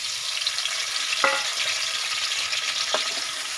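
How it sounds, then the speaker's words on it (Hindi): Potatoes frying in hot ghee for a Punjabi pulao give a steady, close sizzle, with two brief sharper crackles or stirs rising above the hiss. "आलू को हल्का सा फ्राई कर लेंगे।"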